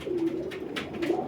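Pigeons coo on a rooftop, a few soft throaty calls repeating close by over a light background hiss, with no talking.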